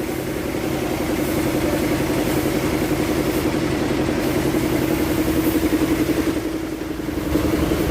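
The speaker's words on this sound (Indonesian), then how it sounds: "ini penampakan mesinnya Hino RK8 ini ya" Hino RK8 bus engine running at a steady idle, a loud, continuous low diesel rumble with an even pulsing throb close to the engine bay, briefly dipping near the end.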